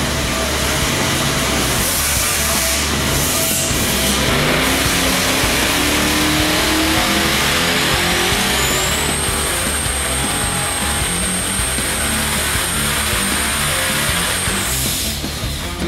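A 2,000+ horsepower twin-turbo LSX V8 roars continuously at high load on a dyno, its pitch climbing steadily as it revs to about 7,200 RPM under full throttle, loud and close with no talking.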